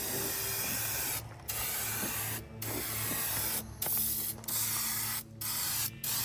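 Spray paint hisses from an aerosol can onto a bullnose Ford F150 truck in six close, loud bursts of about one second each, separated by short pauses.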